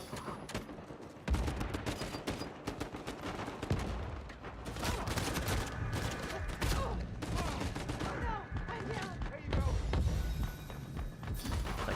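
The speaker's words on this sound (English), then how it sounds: "Should probably just follow the gunfire." Dense gunfire in an Uncharted 4 multiplayer match, with rapid bursts of shots, thumps and impacts crowding together almost without pause, loud and busy, while a player occasionally talks over it.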